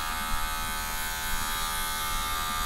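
Electric hair clippers fitted with a number 2 guard buzz steadily and close up in a barbershop, a continuous even drone with slight fluctuations as they trim.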